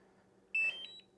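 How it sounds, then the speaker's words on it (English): A DJI Mini 3 remote controller gives a single short electronic beep while updating its firmware, a clear tonal alarm-like chirp with a brief trailing pulse, heard close against a quiet hum. "it just beeped once as well"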